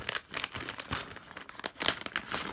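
A plastic coin bag holding 50p coins is cut open: close crinkling and rustling of thin plastic with irregular snips and crackles throughout, no speech.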